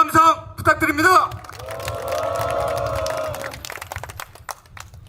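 At a memorial rally for a construction union activist, held outside Sangnoksu Station, a crowd breaks into sustained applause and cheering after a voice over a loudspeaker; the clapping and shouts swell, then fade into scattered claps.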